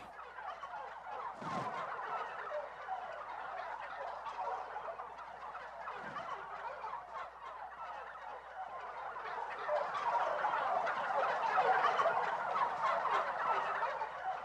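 Wild turkeys gobble in the open, their rapid, rattling calls bursting out several times at moderate distance over a constant background hum.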